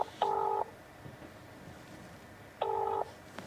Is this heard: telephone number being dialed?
yes